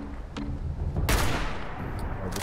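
Enemy gunfire in the video game Fallout 76: a dense burst of rapid shots with a loud volley near the middle, continuing steadily through the short clip with no talking.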